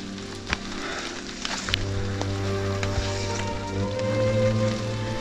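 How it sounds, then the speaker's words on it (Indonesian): Rain falls in forest along a mountain hiking trail, a faint steady patter with scattered drops and light rustling, plus a low hum in the background. "Ini hujan lokal lagi sih."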